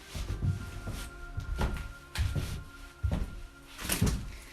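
Someone tries to open a door inside an abandoned building, making a series of knocking, rattling thumps and creaks, five or six close, loud bursts at an uneven rhythm.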